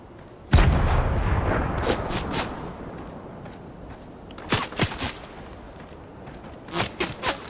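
A loud burst of gunfire in the video game Fortnite opens the clip, followed by scattered sharp shots and a few more quick bursts later, with a synthetic, game-like quality.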